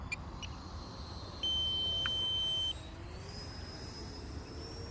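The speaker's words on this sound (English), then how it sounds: "And my timer just went out" A flight timer beeps with one long, steady high tone of about a second, sounding over a constant rumble of wind and outdoor noise while a Freewing 64mm F-22 Raptor RC jet is flown.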